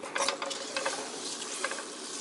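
A spoon stirring cookie crumbs into an egg-thickened mixture for mint squares, giving soft, quiet scraping and wet patter in irregular strokes, with no talking.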